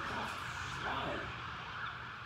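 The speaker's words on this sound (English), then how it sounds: "Or the ambulance." Ambulance siren passing outside, a faint wailing tone steady under a low background rumble, distant and muffled throughout.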